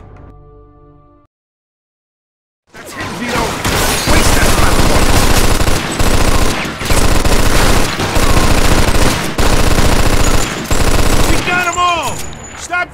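Rapid bursts of automatic gunfire in the Mafia II video game, loud and sustained with short pauses between volleys, following a brief quiet stretch with faint game voices at the start.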